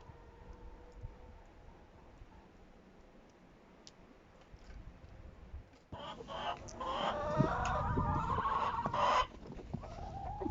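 Chickens cluck softly at first, then a louder burst of busy clucking and squawks comes in partway through and continues close by to the end, with no talking.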